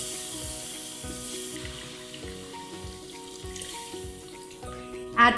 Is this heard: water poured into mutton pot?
yes